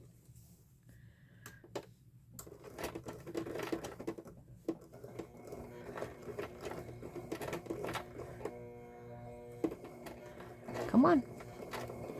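A sewing machine stitches fabric in short bursts of rapid mechanical tapping, stopping and starting close by, with a person speaking briefly between runs.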